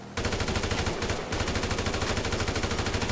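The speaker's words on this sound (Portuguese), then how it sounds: "deu o último tiro" Rapid, continuous automatic gunfire in GTA V rattles loudly in a tight mechanical rhythm, with a brief pause near the start before resuming nonstop.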